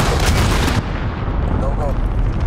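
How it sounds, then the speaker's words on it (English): An enemy cruise missile strike in Call of Duty: Modern Warfare, a Domination match on the Gun Runner map, lands as a loud, close explosive blast that fades into a rumbling tail under game sounds and faint voice callouts. "Enemy cruise missile coming"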